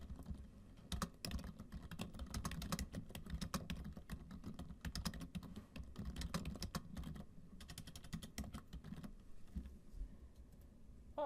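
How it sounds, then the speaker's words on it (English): Rapid, steady typing on a computer keyboard, with dense clicking keystrokes that come in bursts and short pauses, close up and quiet, with no voices. "So now I'm going to type my vesting directly off my vesting deed."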